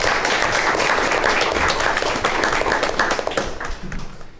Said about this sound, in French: on va applaudir nos joueurs pendant que les juges finissent le calcul